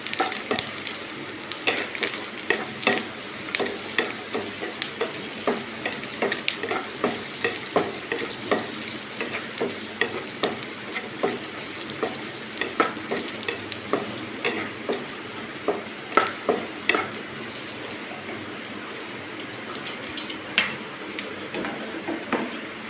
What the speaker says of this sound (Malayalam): ഞാൻ അതിനകത്തേക്ക് കശുവണ്ടി ഇടണം രണ്ടും കൂടി ആണ് വറുത്ത് പറഞ്ഞത്